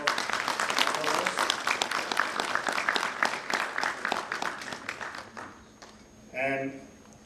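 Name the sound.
big round of applause for the speaker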